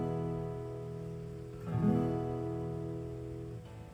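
An acoustic guitar chord fretted firmly with the fingers rings out and sustains, fairly quiet, with a slight bump as it is re-struck partway through and then slowly decays.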